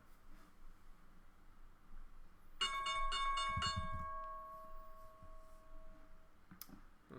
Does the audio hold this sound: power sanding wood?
no